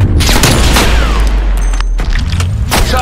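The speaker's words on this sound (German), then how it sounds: "Feindlicher Scharfschütze im Einsatz!" Rapid enemy sniper fire in a video game, a loud dense burst of booming gunshots with heavy low-end rumble, close and continuous across the moment with no talk over it.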